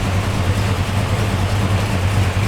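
A car engine idles with the choke on during a project car build, a steady low, throaty rumble with a regular pulsing beat, close and loud, running alone without talk.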